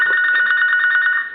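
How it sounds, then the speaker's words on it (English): A Sony IT-M10 two-line desk phone gives one loud, close electronic ring, a fast-trilling warble held for over a second before it stops abruptly. "Got multiple phones ringing here, but you can see this one's ringing right here"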